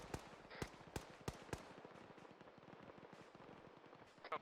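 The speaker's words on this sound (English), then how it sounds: "I hear Dishka fire on the construction site." DShK heavy machine gun fires in Arma 3, a faint, distant string of sharp cracking shots in an uneven rhythm, roughly five clear reports followed by softer scattered pops.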